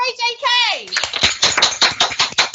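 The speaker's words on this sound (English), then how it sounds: "let's clap for" Young schoolchildren in an end-of-year primary assembly break into quick, loud, close clapping after a voice speaks briefly, the claps rattling in a brisk uneven patter.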